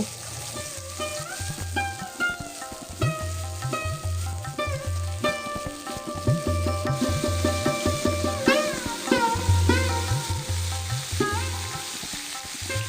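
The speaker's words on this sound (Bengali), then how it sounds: "তেলটা ভালো করে গরম হয়ে গেলে তাতে আমি কেটে রাখা আলু এবং কুমড়োটাকে একসাথে দিয়ে দেবো" Cut potatoes and pumpkin fry together in hot oil, their sizzle running steadily beneath louder rhythmic background music.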